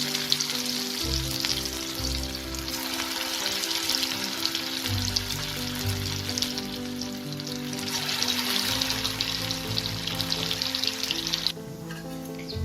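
Poppy seed fritters (posto bora) frying in oil on a medium gas flame, giving a steady close sizzle with soft crackles and a low background hum throughout.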